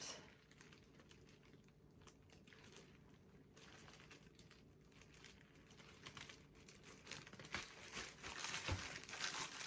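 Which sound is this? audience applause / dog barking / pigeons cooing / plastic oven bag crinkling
plastic oven bag crinkling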